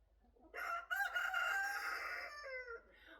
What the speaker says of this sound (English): That's the chickens. They're happy.